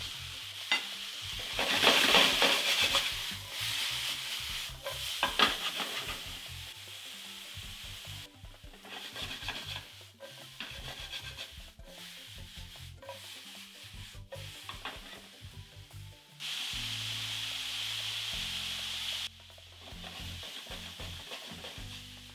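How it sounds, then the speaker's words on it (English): Mushrooms cook in oil in a pan with a constant hissing sizzle, while a spatula stirs and scrapes in a brisk, uneven rhythm throughout. "add some oil, we'll continue cooking these mushrooms until they are nicely softened"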